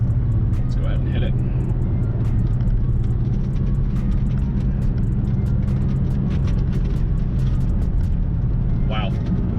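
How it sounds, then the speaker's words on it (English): Continuous close cabin rumble of a Saab 9-3 engine and tires taking a corner at about 43 mph, a dense steady low drone with a few faint squeaks and ticks on top. "We hit that corner at about 43 miles an hour."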